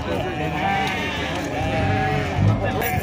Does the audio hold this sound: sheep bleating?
yes